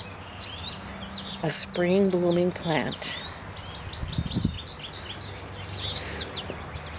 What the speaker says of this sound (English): You'll hear birds singing in the background, goldfinches, coming up to the lovely serviceberry